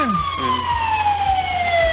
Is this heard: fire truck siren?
yes